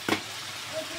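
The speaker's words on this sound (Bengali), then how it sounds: "এখন আমি ভেজে রাখা বেগুনগুলি দিয়ে দেবো।" Fried eggplant pieces are dropped into a sizzling potato curry for begun tangra, giving a short burst of frying hiss and stirring near the start, then a steady low sizzle.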